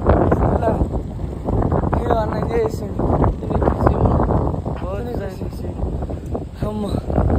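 Strong wind blows beside a pond embankment, buffeting the microphone with a continuous loud roar while people talk over it.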